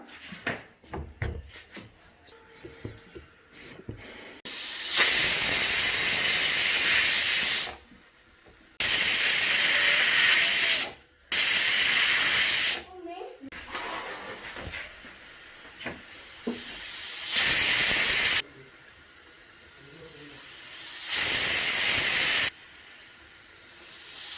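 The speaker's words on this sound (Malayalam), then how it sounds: "ഗ്യാസിൽ നമ്മൾ കുക്കർ വെച്ച് ഉരുളക്കിഴങ്ങ് പുഴുങ്ങാനായി വെച്ചിരിക്കുകയാണ്." A pressure cooker on a gas stove, boiling potatoes in salted water, releases loud, sustained bursts of hissing steam in several separate blasts, with quieter rattling and bubbling between them.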